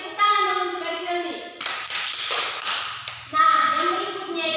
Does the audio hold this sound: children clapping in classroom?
yes